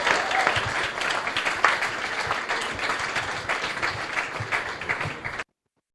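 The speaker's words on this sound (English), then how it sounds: "One more round of applause" An audience at a climate startup pitch-night final gives a round of applause: dense, sustained clapping at a steady level that cuts off abruptly near the end, with no one speaking.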